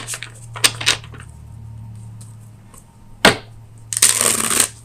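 Tarot cards being shuffled and drawn during a reading: crisp riffling bursts and sharp slaps of cards, a few separate flurries then a longer shuffle near the end, close and clear over a low steady hum.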